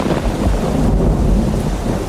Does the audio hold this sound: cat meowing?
no